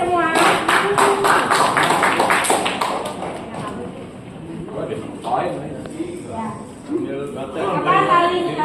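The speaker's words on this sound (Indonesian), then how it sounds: "Tepuk tangan buat kita semua." A group at a regional meeting claps hands, rapid scattered clapping that fades after a few seconds into murmured voices and chatter.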